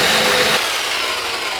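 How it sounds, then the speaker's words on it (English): Reciprocating saw cutting steel tubing for a homemade bash bar, a loud harsh buzzing drone that runs hard for about half a second, then continues as a thinner, lighter grind to the end, with no talk. "So we're gonna run the Sawzall through it."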